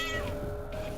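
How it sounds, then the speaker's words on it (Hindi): A cat meows in a domestic TV drama scene, one short cry over a sustained background tone. "बिल्ली काहे रो रही है?"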